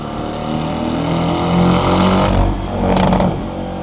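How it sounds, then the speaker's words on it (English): A car on a midnight canyon run revs loudly and steadily nearby, with a brief burst of crackling exhaust pops near the end, no talk. "I love the pops and bangs."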